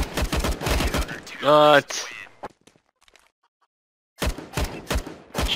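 Quick bursts of gunfire in Counter-Strike (CSGO), a rapid rattle of shots near the start and again at the end, mixed with people talking and a gap of near silence between.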